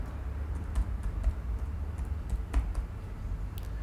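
Keys tapped on a computer keyboard while a website address is entered, a loose run of light clicks over a steady low hum, fairly close and without voices.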